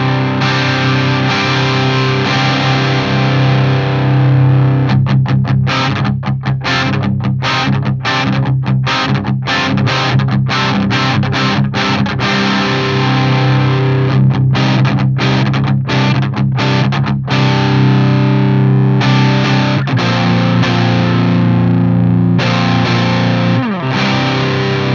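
Electric guitar through an amp's crunch channel, heavily distorted and gainy, played alone at close range with sustained chords broken by choppy, rhythmic muted stabs over about 25 seconds.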